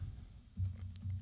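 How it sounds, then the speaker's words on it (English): Quiet keystrokes on a computer keyboard, a short burst of soft clicks and taps over about a second, close and faint, with no talking. "I'll just type in here"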